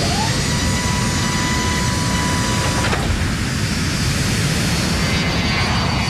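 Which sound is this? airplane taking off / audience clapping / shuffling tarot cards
airplane taking off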